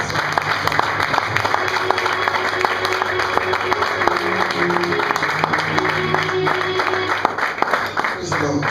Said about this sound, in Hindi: आइए लोग सारे हम लोग जोर से ताली बजाकर करते हैं।